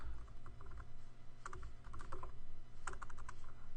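Quiet, continuous typing on a computer keyboard, with irregular soft key taps and a few quicker bursts of clicks over a low background hum.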